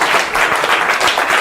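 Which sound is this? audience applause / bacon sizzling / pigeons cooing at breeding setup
audience applause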